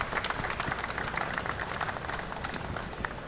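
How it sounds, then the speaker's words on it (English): Seminar audience applauding the welding-industry panelists at an ESAB University event, a brief, moderate patter of many hands clapping at an even level, with no voices over it. "Let's give these guys a round of applause for being here today."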